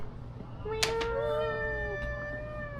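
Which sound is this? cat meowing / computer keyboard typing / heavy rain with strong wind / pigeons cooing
cat meowing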